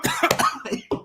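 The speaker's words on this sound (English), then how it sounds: "Are you coughing?" A woman's short coughing fit of several quick harsh coughs with brief gaps, close and clear with no talking.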